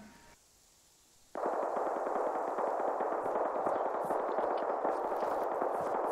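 Dense, continuous gunfire from an Arma 3 Exile match on the Chernarus map, bursting in abruptly after a quiet moment and sustained at steady loudness with faint echo, no talk over it.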